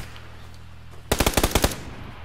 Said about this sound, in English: Oh, he's fucking there shooting at us.